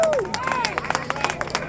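A rally crowd claps in a quick, steady patter of many hands, moderately close, with voices and babble over the clapping.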